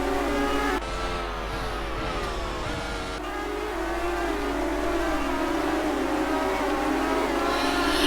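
IndyCar race cars at Gateway in a racing game roar past in a loud, continuous high-pitched engine whine, with pitch shifts as the cars shift gears and jostle together.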